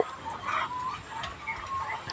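Chickens clucking inside a bamboo coop, a series of soft, close clucks and short calls spread through the moment, with light background noise and no talk.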